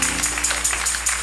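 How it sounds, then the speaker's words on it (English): A church congregation claps hands in rhythm during a choir service, quick regular claps at a lively pace, loud and close. "Clap your hands and give God praise"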